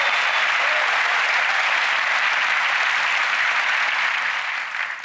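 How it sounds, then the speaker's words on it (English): Studio audience at a televised magic competition show breaks into loud, sustained applause, a thick wash of clapping that holds steady before easing slightly at the end. "A round of applause as she retakes her seat."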